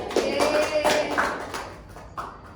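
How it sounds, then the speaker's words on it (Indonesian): A short burst of clapping in an Indonesian fourth-grade classroom teaching simulation, a few uneven claps over a couple of seconds, fairly close, with faint voices around. "Kita kasih tepuk tangan ya"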